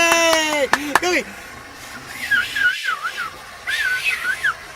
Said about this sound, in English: I whistled over the loop